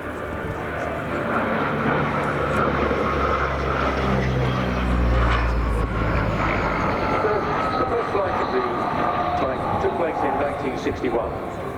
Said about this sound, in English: It's described as a mid-wing monoplane with a so-called double-bubble fuselage comprising a pressurized crew compartment above an unpressurized 9-meter weapon bay